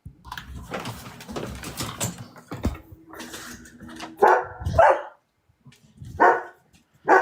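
A dog barks in a room, first muffled under a busy background, then in a few loud, close bursts spaced across several seconds, with quiet gaps between them.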